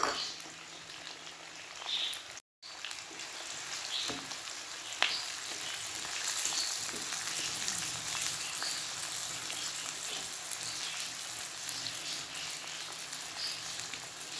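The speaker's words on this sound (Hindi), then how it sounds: "ऑयल यहाँ पे गरम हो रहा है, इसमें मैं अब डालूँगी प्याज और लहसुन जो कि मैंने काट के रखे हुए हैं।" Chopped onion and garlic sizzling in hot oil while cooking a traditional spicy Sobat, a steady soft frying hiss with faint crackles throughout.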